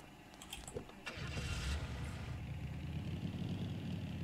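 A car engine in the survival video game Night of the Dead cranks with a brief rattle, catches about a second in, then settles into a steady, close, low idling rumble with no talk.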